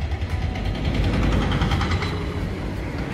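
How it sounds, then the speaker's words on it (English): Traffic and construction noise outside a café in Udon Thani, Thailand, forming a steady, low rumbling wash of engines and street sound with no voices. "Excuse the construction noise and the traffic noise."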